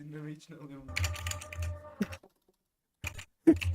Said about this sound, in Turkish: Adam şu an klavyeyi abanıyor böyle